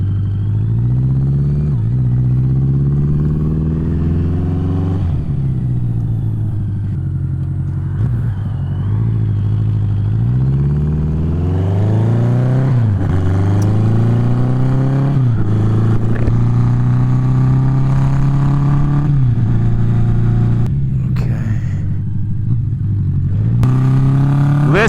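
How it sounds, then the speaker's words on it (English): A cafe racer motorcycle engine revs hard and pulls away while riding, loud and close, rising and falling through repeated throttle swells and gear changes for the whole stretch. "Listen to that motor open up."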